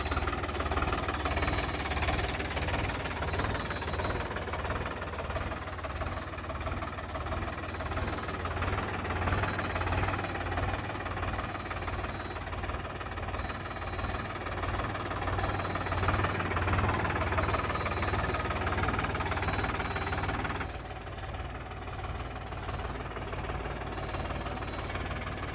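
A used 44 HP tractor with double clutch, oil brakes and power steering runs steadily at idle, its low engine rumble and knocking continuing evenly and fairly close throughout, with a slight drop in level near the end.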